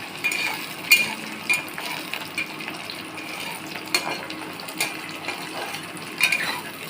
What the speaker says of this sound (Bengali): এবার একটু ভালো করে নেড়ে নেব।